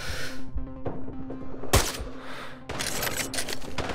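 Gunfire from the video game Sniper Ghost Warrior 3: a dense, loud stretch of rapid shots and bursts, with one especially sharp crack near the middle and a sustained, busy barrage toward the end.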